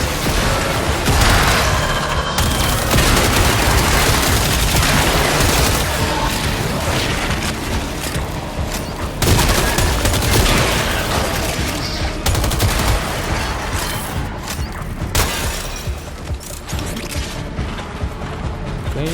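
Dense, continuous gunfire in Warframe, rapid shots and booms layered with mechanical game effects, loud and close throughout without letup.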